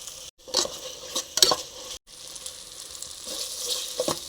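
Onions, tomatoes, mint and a few spoons of yogurt fry in a pan for veg biryani, crackling and sizzling up close, with stirring scrapes and the clink of a spoon against the pot, briefly cut twice.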